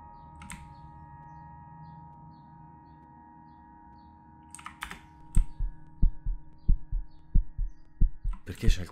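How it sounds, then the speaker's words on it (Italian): Heartbeat in the horror video game Downfall, a steady run of deep, thudding double beats that starts partway through and grows loud and close over a low droning hum, with brief clicks earlier. "Perché c'è il cuore che batte adesso?"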